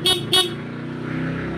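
Two short car horn honks from a motorcycle or vehicle horn wired to flash the pass light, sounding close and loud, followed by a steady engine idle hum.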